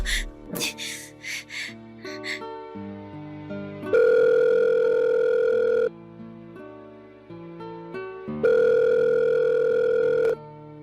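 A mobile phone rings for a call: two long steady electronic ringback tones, each about two seconds, separated by a pause, following a few brief breathy sounds at the start.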